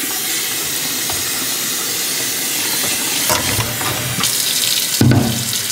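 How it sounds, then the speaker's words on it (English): Running water pours into a pot of hot, boiling lentils, a steady close hiss and rush that swells louder toward the end with a brief splashy burst. "I love this sound of adding running water to hot lentils."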